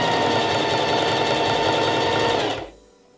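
A Singer Heavy Duty 4432 sewing machine stitches at full speed with a loud, even mechanical whir that cuts off abruptly near the end, leaving quiet.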